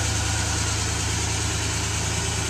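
A 1976 Corvette Stingray's 350-horsepower 350 V8 idles close and loud, a steady, throbbing rumble with an even pulsing beat and no voices over it.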